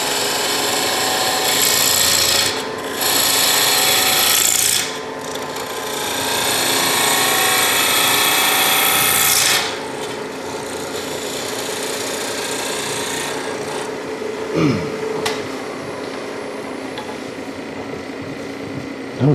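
A woodturning tool cuts wood spinning on a lathe, a continuous rough scraping rasp close by that swells and eases in bursts, with a couple of sharp knocks late on.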